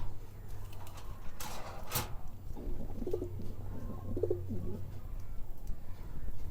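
Danish and racer pigeons in a loft give two soft, low coos midway through, heard faintly over a steady background hum, with a brief rustle earlier.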